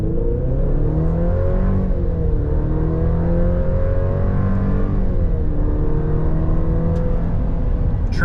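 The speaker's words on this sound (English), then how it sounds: "Colorado Z71 off of idle." Chevrolet Colorado Z71 pickup launching from idle on a 0-60 run, its engine note climbing steadily through gear changes in a loud, continuous close-up drone with no speech.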